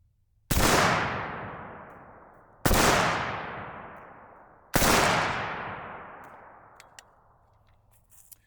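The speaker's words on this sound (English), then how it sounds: "I'm just gonna shoot about 3 to 5 rounds and see where it lands." A Riley Defense AK-103 rifle (RAK47-P-SF) fires three loud, separate shots about two seconds apart. Each report rings out and then decays slowly into a long echo, with faint clicks at the end and no talking.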